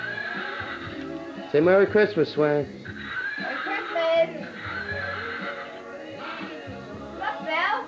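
A toy horse gives repeated electronic neighing whinnies amid adults talking and chuckling nearby.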